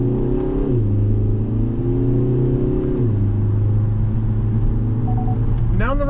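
A 2024 Kia Forte GT with a dual-clutch transmission pulls away from second gear, its engine droning loudly and climbing in pitch, dipping at gear changes, with a voice speaking briefly near the end.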